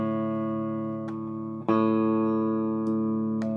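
A clean electric guitar chord rings out sustained through a Colby amp on its clean channel, struck again partway through, bright and full with no distortion.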